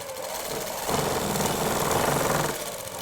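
A sewing machine stitches a plazo, its motor starting up into a fast, steady whirring run of needle strokes for about a second and a half before slowing to a stop.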